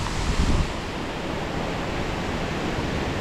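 Water pours steadily through cut rock slabs at Cotter Force, a continuous broadband rush with a slightly louder surge in the first half-second, then an even roar.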